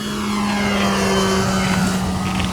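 Hangar 9 P-47 Thunderbolt RC warbird on 4S power flying overhead, a steady electric motor and propeller drone holding a constant pitch outdoors.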